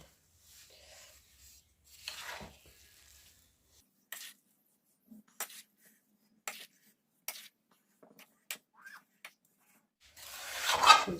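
Intermittent scraping and rubbing as a thick winter health-food mixture is stirred in a small wok, short strokes spaced apart, ending in a longer louder scrape.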